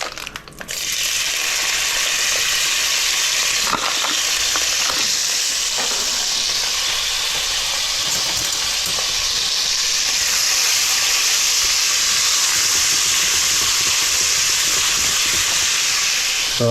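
Smoked bacon lardons sizzle loudly and steadily in a hot pan for a Hungarian chicken paprikash, a dense crackling hiss that starts abruptly and keeps going with occasional stirring scrapes, and no voices.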